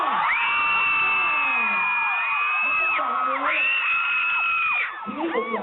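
A crowd of fans screams for K-pop group 2PM at Park Paragon in loud, sustained high-pitched shrieks, rising and falling in waves before fading near the end.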